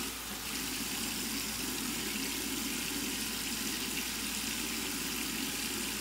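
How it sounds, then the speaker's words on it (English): Cold tap water runs steadily from a faucet to wet an Osmo alum block before shaving, giving a continuous, fairly soft rushing splash with no talk over it. "Just run it under some cold water and run it across the face here."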